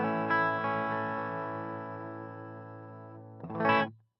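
Electric guitar played through a King of Tone clone overdrive pedal on its clean setting into a Fuchs amp: a strummed chord rings out and slowly decays, then a brighter second strum ends abruptly, with no talk.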